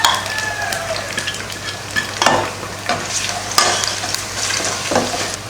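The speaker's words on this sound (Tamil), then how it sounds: "இப்போ ஒரு கடாய் வச்சு எண்ணெய் ஊற்றிருக்கேன். எண்ணெய் காஞ்சிருச்சு. அதில் கருவேப்பிலை, பூண்டுப்பல் ஒரு 4 எடுத்து அதை பொடியாக கட் பண்ணி எடுத்து வச்சுருக்கேன்" Chopped garlic and curry leaves frying in hot oil in a kadai, a bright continuous sizzle with several scraping stirs and clatters, close and loud; a faint rooster crow can be heard in the background.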